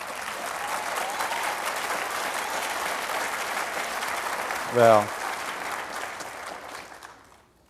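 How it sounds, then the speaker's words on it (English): Audience applause at a televised media discussion, a broad sustained clapping wash that fills most of the stretch before fading out, with a brief spoken word rising over it near the end. "I accept the applause"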